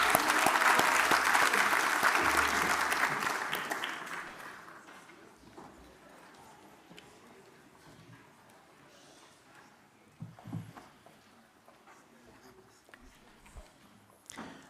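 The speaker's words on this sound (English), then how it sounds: "Let's give another round of applause to the UP choir." Audience applause for a university choir at a summit, loud and dense at first, then fading out over several seconds into a quiet room with scattered faint knocks and shuffles.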